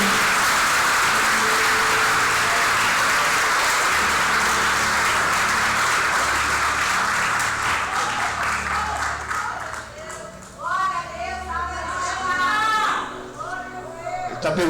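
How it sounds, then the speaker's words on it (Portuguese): A church congregation claps warmly for a visiting preacher, dense applause that gradually thins as excited voices and a few children's shouts rise over the fading claps and a low hum. "Receba o homem de Deus dando um lindo aplauso para Jesus"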